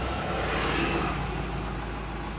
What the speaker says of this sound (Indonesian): Coba kita starter.